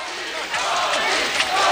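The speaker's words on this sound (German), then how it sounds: "In Bonn jubeln ihm 1989 die Massen zu." A large crowd in Bonn in 1989 cheers Mikhail Gorbachev with a sustained, roaring wash of voices that swells slightly toward the end, heard at a distance.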